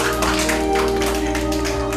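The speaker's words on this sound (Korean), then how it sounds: "현아 아버님한테 박수 쳐주세요" A small group claps for Hyun-a's father, a uniformed police officer, in a brief, even patter of hand claps over a steady low electrical hum.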